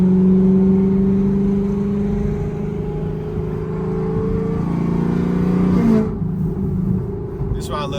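A Camaro ZL1's V8 engine revs hard through a pull, a loud, steady roar that rises in pitch, then drops off as it shifts and settles into a lower rumble.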